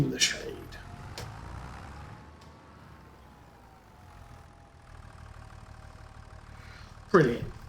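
A tractor engine idles steadily in the Farming Simulator 25 game, a low, even hum running at moderate level with a brief sharp noise near the end.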